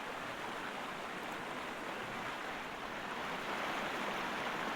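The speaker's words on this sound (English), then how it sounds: "Could the water be louder?" Rushing water roars loudly and without a break in the video game Sherlock Holmes: Crimes & Punishments, a dense, steady hiss like a strong stream or waterfall filling the whole scene.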